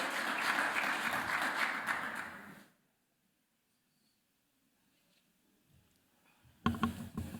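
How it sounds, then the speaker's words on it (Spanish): An audience at an irrigation engineering export expo gives loud applause that fades out after about three seconds. A quiet pause follows before clapping briefly starts up again at the end. "Así que le doy un fuerte aplauso a Cristian Fischer"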